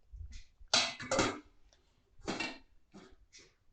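A metal lid clatters onto a cooking pot holding garlic and green chillies, two or three close clinks and scrapes of cookware, fairly quiet, with no talking.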